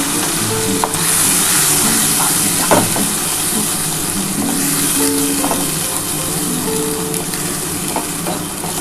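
Onion, ginger and garlic paste frying in hot oil while a rohu fish rezala is cooked, giving a steady, close, loud sizzle and crackle throughout with occasional stirring knocks and no talking.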